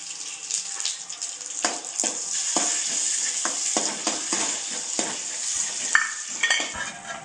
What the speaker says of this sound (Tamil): முந்திரி பருப்பை வறுத்து எடுத்துக்கலாம்.